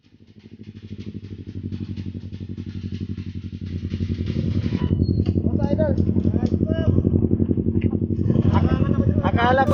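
A motorcycle, a Honda RS125 Fi, pulls up and its engine grows steadily louder over about ten seconds, ending close and idling steadily, with people talking over it.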